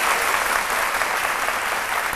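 A studio audience applauds comedian Joël on a Côte d'Ivoire midday TV show, giving a dense, steady burst of clapping that holds at an even level for about two seconds.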